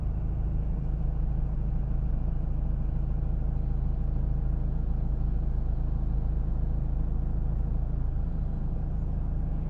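A 2017 Mazda 3 2.2d SkyActiv diesel engine idling while stopped at a traffic light, heard from inside the car as a steady low rumble that stays constant throughout with no talking.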